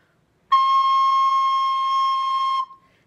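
Recorder sounding a single sustained high C, a pure steady tone held for about two seconds with a clean start and stop, alone and close.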